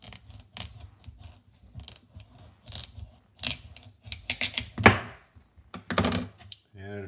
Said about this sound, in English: I'm going to roast it anyway, so I'm going to cut the top off.